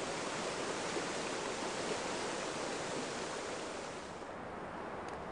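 Steady, dense rush of a fast spring stream swollen by snowmelt in the Rocky Mountains, loud and continuous with no pauses, easing slightly toward the end; no voices.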